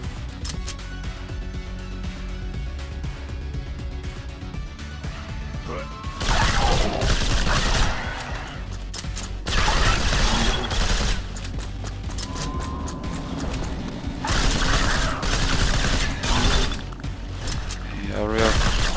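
Gunfire in the retro-style shooter STRAFE, loud sustained bursts of shots and mechanical clatter in several waves over a steady game backdrop, with someone talking over the action.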